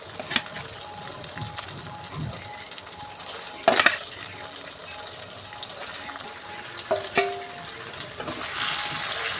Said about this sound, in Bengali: এবার দিয়ে দেবো সেদ্ধ করে ধুয়ে রাখা মাংসগুলো